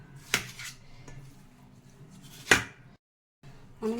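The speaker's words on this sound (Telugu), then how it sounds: "చక్కగా ఇది మనము సన్నగా ముక్కలు ఇలాగా తరుక్కోవాలి" A knife cuts a ripe red watermelon into thin pieces, giving two sharp, separate knocks against the board with quiet handling in between, close and faint.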